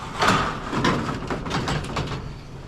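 The metal roll-up door of an abandoned storage unit is hauled open and needs lubrication. It gives a loud, continuous grinding rattle with rhythmic surges for nearly three seconds.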